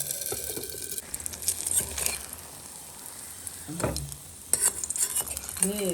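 Rava and potato egg breakfast cooking in a pan, a soft sizzle broken by spatula scrapes and metallic taps, close and moderately quiet, no speech.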